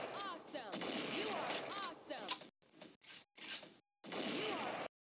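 Repeated gunshots and bursts of gunfire from an Android shooter video game, loud and clustered in rapid volleys broken by brief silent gaps, with voices and game effects mixed in.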